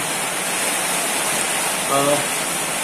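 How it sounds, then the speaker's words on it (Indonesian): Steady heavy rain falling outdoors, a dense, loud hiss filling the whole stretch without pause; a brief voice rises over it near the end. "Ini agak terganggu dengan suara hujan"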